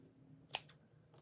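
A single quick snip of scissors cutting through a 1.5 millimeter nylon cord, a short crisp click near the middle with a faint second click after, close and alone in a quiet room.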